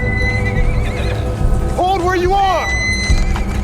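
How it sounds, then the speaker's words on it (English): A horse gallops toward the listener in The Walking Dead video game, with loud hooves clip-clopping and a clear neigh rising above them. Someone shouts a command over the sound. "saw a person riding a horse heading towards them"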